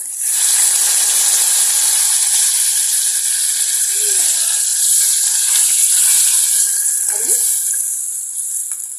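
Vinegar poured onto hot yellow rice in a pan gives a loud, steady sizzling hiss that holds for several seconds and eases slightly at the end.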